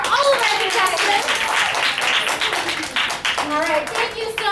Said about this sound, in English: Can we get a round of applause for all of our contestants?